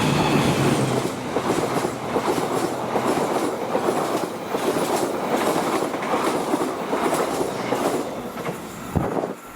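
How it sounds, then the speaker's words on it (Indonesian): The Argo Parahyangan passenger train rumbles past steadily with clattering wheels and rail noise, loud and continuous throughout, no voices. "Barusan lewat kereta api Argo Parahyangan tambahan 47A"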